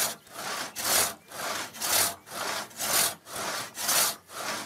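Traditional hand sawing of a tree trunk into boards, long regular back-and-forth strokes of a large saw rasping through wood, about eight even strokes, close and without talk.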